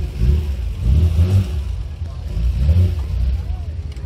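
A Volkswagen Bay Window van engine at an outdoor transport festival gives a low, throaty rumble that swells in two or three revs. Nearby voices talk over it.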